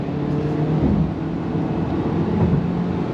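A 2025 Ford Maverick Lariat Turbo truck with AWD accelerates on throttle through a turn, its engine a steady, loud, close drone with a low rumbling hum throughout.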